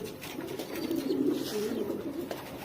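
Low, throaty cooing from meat pigeons kept in a coop, a short continuous burble rising and falling, near and alone.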